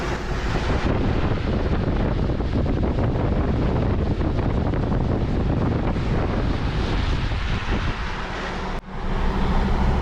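Inclement River in flood after November snow, a heavy, continuous roar of rushing water with steady wind buffeting the microphone throughout, loud and close, with a brief dip near the end.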